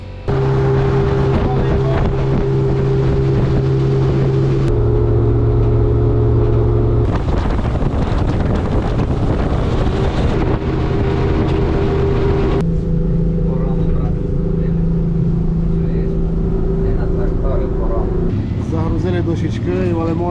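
A motorboat's motor runs steadily on the water near a port in Muskoka, a loud, constant drone with wind buffeting, while someone talks over it.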